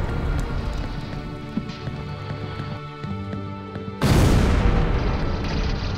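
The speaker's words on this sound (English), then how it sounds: "Rocket launcher." In the game Steam Slug a rocket launcher fires with one sudden loud, close blast at about four seconds, followed by a sustained noisy roar, after a stretch of layered game ambience and tonal music.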